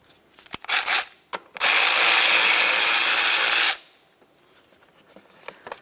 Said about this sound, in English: removing these two 10mm headed nuts